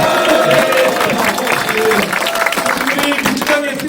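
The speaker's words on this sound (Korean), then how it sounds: "우리 우상호 의원님 한 번 더 이렇게 박수 한번 쳐드릴까요?" An audience at a political lecture in a football centre hall applauds a lawmaker, sustained clapping and crowd noise filling the room, with voices mixed in throughout.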